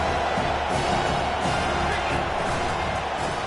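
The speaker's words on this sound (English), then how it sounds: "Listen to this crowd just shaking the girders of this place" A football stadium crowd roars continuously and loudly, a dense wash of noise filling the whole moment with no break.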